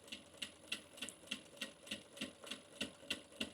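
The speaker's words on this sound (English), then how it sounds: "And just sew down these sides" Sewing machine topstitching down the sides of a fabric bag with a lengthened stitch, producing an even series of soft rhythmic clacks, roughly three per second, close and fairly quiet with no voices.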